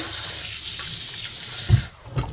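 Tap water runs steadily from a kitchen faucet while pork chops are rinsed in the sink, a continuous hiss with a couple of brief splashes near the end.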